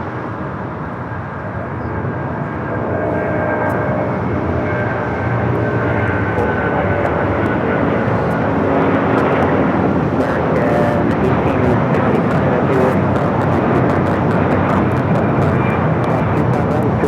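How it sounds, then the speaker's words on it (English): An Airbus A330-200 takes off from LAX bound for Honolulu, its jet engines building into a loud, sustained roar that swells and holds throughout. "Taking off to Honolulu on the A330-200."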